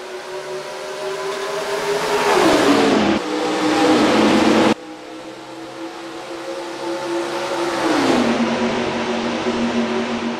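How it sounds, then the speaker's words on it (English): Race cars in the NR2003 racing video game take the green flag at Atlanta, loud engine roars rising in pitch as the pack accelerates, with abrupt gear-change drops and a sustained dense drone of many cars together. "Green flag racing in Atlanta."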